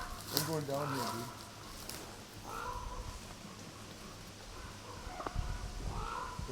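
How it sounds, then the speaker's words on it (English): Crows caw in a few harsh repeated bursts at moderate distance, separated by gaps, while people talk quietly outdoors with rustling and footsteps in the background. "That's just a crow."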